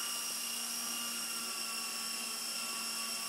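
Solo Pro 328 RC helicopter rotor spinning at full throttle indoors, a steady high-pitched whine with sharp tonal harmonics, continuous and close throughout.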